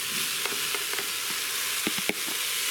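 Cubed chorizo sizzles steadily in a pressure cooker with a bright, constant frying hiss, broken by scattered small pops and a few clacks of a utensil, close, with no one talking.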